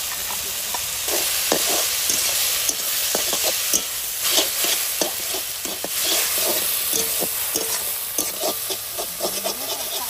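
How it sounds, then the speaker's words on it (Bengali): Small river chela fish and fresh coriander leaves sizzle and crackle in hot oil in a wok while a utensil scrapes and stirs around the pan in repeated strokes, close and steady. "এবার কড়াইতে তেল দিচ্ছি, ধনে পাতা দিয়ে মাছ দিয়ে বাটা হবে, ভেজে নিই।"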